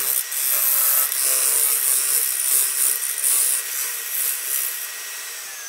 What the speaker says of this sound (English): I'm gonna go ahead and take the scraper